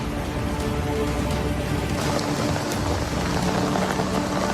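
Heavy rain pouring over flooded streets in Abha, Saudi Arabia, where the sewer system has failed: a dense, loud, unbroken roar of downpour with no gaps.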